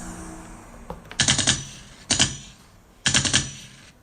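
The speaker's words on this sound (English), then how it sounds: "Gunshots." Three rapid bursts of gunfire, each a quick rattling volley of several shots, loud and close with short gaps between them.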